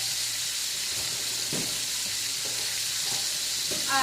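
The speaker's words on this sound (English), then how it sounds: "let me show you while this is frying real quick" Chicken for orange chicken sizzles and crackles in a hot pan, a constant bright hiss with a few faint clinks, nearby and steady.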